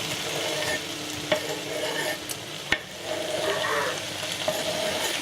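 Roast dinner leftovers sizzle as they stir-fry in a full wok, with a steady loud hiss and a few sharp clacks of the utensil.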